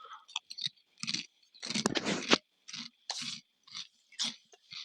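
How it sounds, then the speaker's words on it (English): Someone chews and crunches food right next to the microphone, with loud, irregular bursts of crisp crunching separated by brief pauses. "Try not to crunch right into the microphone, but I'm hungry."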